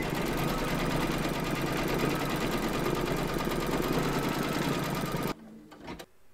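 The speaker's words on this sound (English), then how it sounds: "Pop your hoop into your machine and stitch round number 4 to secure them" An embroidery machine stitches an appliqué hive design in one continuous, fast, even whirring run, loud and close, then stops abruptly near the end, leaving brief faint clicks.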